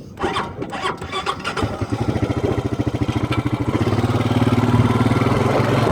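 A quad ATV engine cranks with a rapid, pulsing rhythm, then catches and settles into a loud, close, steady idle rumble with no voices.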